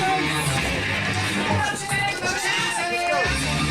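Loud crowd at an OCW Flashpoint pro wrestling tag team match cheering, whooping and yelling steadily throughout, dense and continuous with no break.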